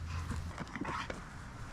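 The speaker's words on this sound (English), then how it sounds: "He thinks he's the coolest dog in the world because he has a ball." A dog playing with a ball in a neglected yard gives faint whimpers and soft vocal noises, distant and quiet over outdoor background noise.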